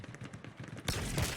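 Rapid gunfire in the video game Halo Infinite, aimed at a vehicle gunner for headshots; a quick series of fairly faint shots is followed by a louder, denser burst of fire.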